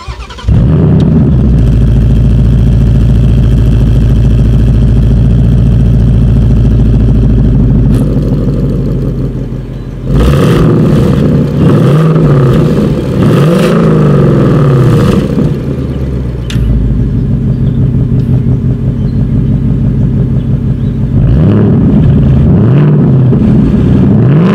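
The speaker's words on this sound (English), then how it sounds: "I'm going to rev it in quiet mode, and then we will rev it in sport or track mode" A 2019 Ford Mustang Bullitt engine rumbles loudly close by, revving up and dropping back several times with a deep, throaty exhaust roar between steadier idling.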